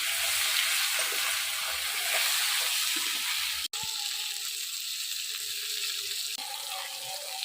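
Potatoes and eggplant frying in oil in a pan for a Bengali dish, a steady close sizzle with one brief knock partway through; no talking.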